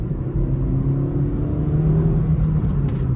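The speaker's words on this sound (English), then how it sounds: "you would like to rev it again and again and again" A third-generation Honda City's i-VTEC petrol engine revving while parked, a loud, steady low rumble and hum held close throughout with no voices.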